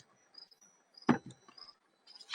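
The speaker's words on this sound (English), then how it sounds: "That's their way of calling for a mate." A lone cricket chirping outdoors at night, faint intermittent trills broken by a few louder nearby knocks and rustles.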